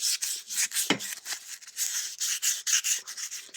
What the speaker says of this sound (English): Get some fine wet and dry, or get some Scotch Brite or something, and just